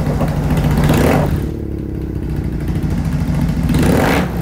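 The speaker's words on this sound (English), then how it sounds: "I got a new bike." A Triumph Bonneville SE motorcycle engine, loud and close, rumbling steadily with a revving swell at the start and another toward the end.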